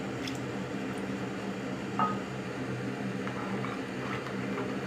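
Rice and water for mutton biryani stirred in a pot, a soft, faint wet squelching against a steady background hiss, with one light metallic clink partway through and no voices.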